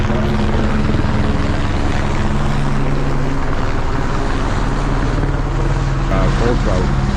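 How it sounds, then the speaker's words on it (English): A helicopter flies low over a river in northern British Columbia, its loud continuous rotor chop and engine roar dominating the whole stretch with a voice faintly heard beneath. "We got a chopper in."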